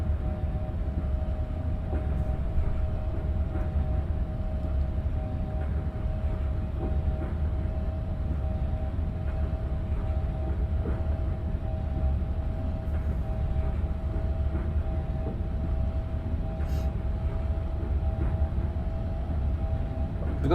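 Tram on the Manchester Metrolink Altrincham to Bury route in Microsoft Train Simulator, a steady rumbling run with a constant low drone and electric hum, continuous and moderately loud without talk.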